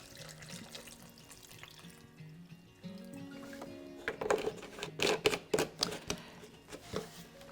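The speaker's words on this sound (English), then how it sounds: "we're going to pour that in on top of the tomatoes in this bowl" Water splashes and gurgles in uneven bursts as it is poured into a bowl of tomatoes, close by, after a quieter stretch of faint background clatter.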